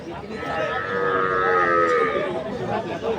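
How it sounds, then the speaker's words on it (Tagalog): A water buffalo (kalabaw) at a stockyard in Bacong gives a long, loud, drawn-out low moo that swells through the middle and fades, set against steady livestock-yard background noise. "Grabe, kalabaw."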